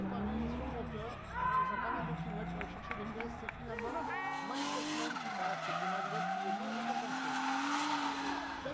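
At a French drift championship round in Salbris, a yellow Toyota and a black BMW drift with sustained tire squeal and skidding over roaring engines, loud and continuous. A commentator talks over the noise.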